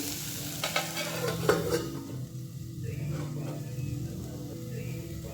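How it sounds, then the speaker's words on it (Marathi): Capsicum and besan vegetable dish cooking in a pan, with a steady soft sizzle and stirring scrapes near the start, continuing quietly with no talk. "आता आपण भाजी दोन मिनटे वाफवून घेऊया"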